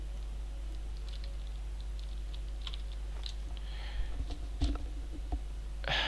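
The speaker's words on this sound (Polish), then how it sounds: "Nie no, klikam A i nic nie robi." Light clicks of computer keys being pressed, scattered soft taps against a steady low hum, faint and close, with no voices.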